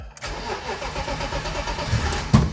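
A car engine cranks and struggles to start after a mass airflow sensor replacement, with a rough, uneven churning that runs for a couple of seconds and ends in a few louder sputters, heard alone and close up.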